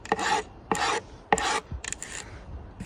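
A hand planer takes angled chamfering passes along the edge of a bathroom fitting, giving three distinct rasping strokes and then lighter, shorter scrapes, close up with no talk.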